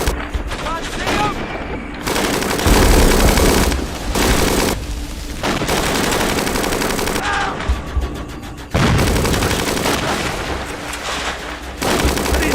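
Bursts of machine-gun and rifle fire crackle loudly in the Kokoda VR jungle combat game, dense fusillades broken by short pauses, with shouted voices now and then beneath the shooting.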